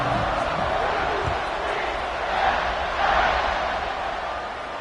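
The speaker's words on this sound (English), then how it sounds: "Do you think this crowd's going to get loud when their defense comes on the field?" Football stadium crowd at a college game between TSU and UCF, a steady broad roar of many voices that swells slightly around the middle, with commentary talk over it.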